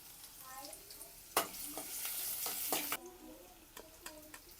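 Onion fries in hot coconut oil in a pan, giving a soft, steady sizzle that turns louder and brighter for a moment partway through, with faint stirring clicks.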